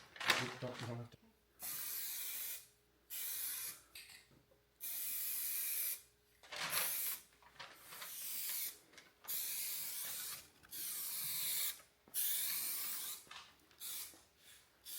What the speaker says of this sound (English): If you get a little bit closer, then you have less overspray.